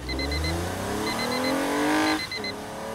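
A car engine revs up in a rising whine, drops as it shifts, then climbs again, loud and close, with a repeating electronic beep pattern on top.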